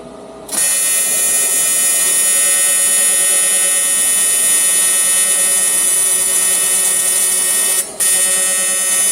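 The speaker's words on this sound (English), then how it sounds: "we're gonna try and make a weld, I guess." TIG welding an aluminum-type joint with 5356 filler rod on an Everlast Lightning MTS225 welder: a loud, steady electric buzz and hum starts abruptly, runs continuously, then cuts out briefly near the end before resuming.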